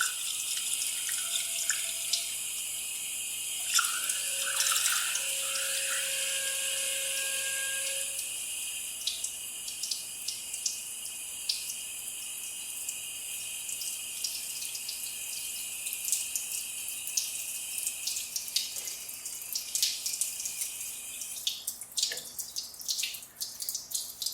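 Water running steadily through the engine of an abandoned 1962 AMC Rambler during a flush, a continuous hiss and splash with scattered drips and a few brief tonal whistles, moderately close, with no talk.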